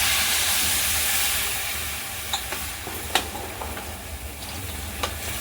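A steady hiss of a glass of water poured into a hot wok of mixed sprouted legumes, settling into quieter sizzling with scattered pops and crackles.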